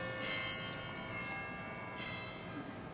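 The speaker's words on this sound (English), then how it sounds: "you guys hearing Bell?" A church bell at St. Peter's rings with a faint, sustained, resonant tone that carries over a quiet, busy room, and the strikes seem to recur about every second and a half.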